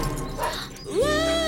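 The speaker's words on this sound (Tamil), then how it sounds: "நாய் குறைக்கிற சத்தம் கேக்குதுடா." A dog gives a short rising whine or yelp near the end, over steady background noise and a low hum.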